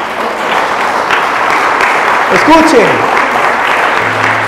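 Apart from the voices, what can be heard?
audience applause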